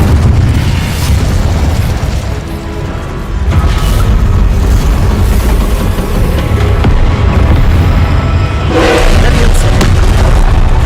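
A fire spell cast in the Hogwarts Legacy video game erupts as a dense, loud whooshing burst with booming low rumble, amid continuous game effects and a later flaring surge.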